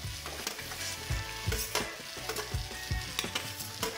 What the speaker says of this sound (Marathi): आता इथे मिक्सरमधून बारीक केलेले सोले ते सुद्धा मी कढईमध्ये टाकून घेत आहे